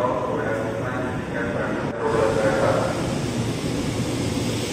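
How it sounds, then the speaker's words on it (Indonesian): A 10-car Tokyo Metro 6000 series commuter train rolling into track 6 at Manggarai station, a broad low rumble of wheels and motors that builds and then holds steady under faint station noise. "Jalur 6 masuk Tokyo Metro seri 6000 10 kereta mengakhiri perjalanan di stasiun Manggarai."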